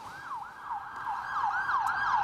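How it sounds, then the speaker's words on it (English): An emergency siren wails in rising and falling sweeps, fairly loud and steady, with traffic rumbling underneath. "We actually got some sirens passing us here."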